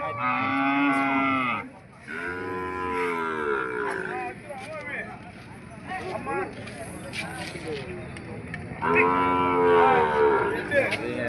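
Bulls at a weekly cattle market in Gadag bellow in long, loud moos at the start and again near the end, with a lively crowd of traders talking and calling between them.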